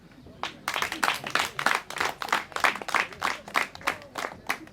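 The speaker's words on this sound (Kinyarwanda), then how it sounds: "Amashyi mwayibagiwe." A church congregation claps together in a steady, rhythmic burst of applause that swells and pulses for several seconds, fairly close and with no talk over it.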